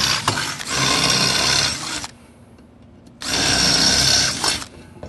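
A power drill bores 3/8-inch holes into the back of a stair cable-railing post, running in two long, loud, close whirring bursts with a quiet pause between them.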